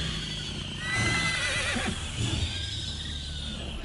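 A horse neighs in the video game Elder Scrolls Online, a drawn-out whinny rising and falling over a low background with faint hoof sounds and game ambience.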